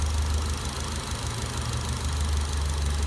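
A RenaultSport Megane 225 engine holds steady raised revs during an upper cylinder cleaner treatment, a constant low, droning rumble with no variation.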